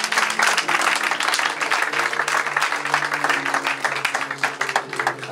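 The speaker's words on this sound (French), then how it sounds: "nous acclamons pour le Seigneur" A church congregation claps and cheers for the Lord, producing dense, continuous applause that fills the room and stays loud throughout, with voices mixed into the crowd noise.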